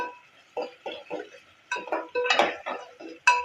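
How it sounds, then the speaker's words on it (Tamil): Onions sautéed in a pan for a lunchbox meal, heard as a series of sharp metallic scrapes and clinks of a spatula against the pan, irregular bursts with short gaps, close and clear with no talking. "இந்த வெங்காயத்தை வதக்கிக்கலாம்"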